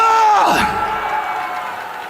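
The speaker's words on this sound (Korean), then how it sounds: "박수!" A large crowd at an outdoor political rally yells and cheers loudly in one swelling burst that then settles into a sustained roar.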